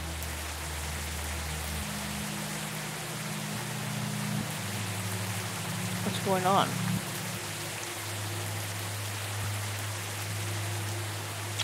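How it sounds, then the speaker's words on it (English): Steady rain falls outdoors in the video game Sally Face, a soft continuous hiss beneath brief speech and a short burst of tonal game sounds. "how and why am I outside in the rain in a house hospital gown?"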